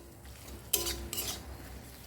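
A metal spoon scrapes and clinks against a pan while fried soybean chunks and potato are mixed with spices, two short bursts of clatter over quiet background, no speech.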